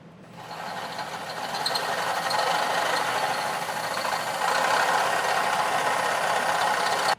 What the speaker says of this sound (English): now we're going to go ahead and drill our 17/32 hole